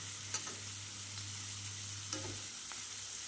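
Vegetables, including eggplant and beans, fry in a pan with a constant soft sizzle, plus a couple of brief stirring scrapes, close and at a moderate, even level.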